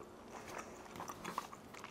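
Someone chews a bite of steak up close with soft, irregular, moist crunching and biting sounds, faint and without talk.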